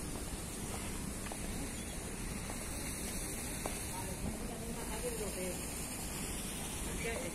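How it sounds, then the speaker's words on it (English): Small waterfall by the pool area of a spa hotel in Benidorm, Costa Blanca, giving a soft, continuous splashing wash of water heard at moderate distance with faint outdoor ambience. "Nice little waterfall."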